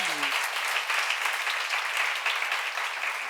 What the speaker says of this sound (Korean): 심는 대로 걷는다고 그런 거 믿으시면 박수 치세요.